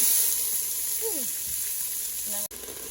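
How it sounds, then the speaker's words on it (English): Onions sautéing in a little oil in a pot for a dairy-free green chile chowder, a steady close sizzle and hiss throughout with a brief stir and a short utensil knock near the end. "I'm sauteing the onions here"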